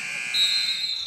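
A steady electronic buzzer tone sounds at a girls' high school basketball game in a gym, a brief sustained blare under crowd noise.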